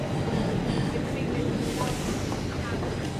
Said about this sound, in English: There goes a nearly empty southbound train.